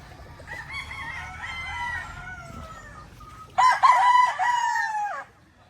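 A rooster crows loudly and close by, two long drawn-out calls, the second one stronger, with no talking.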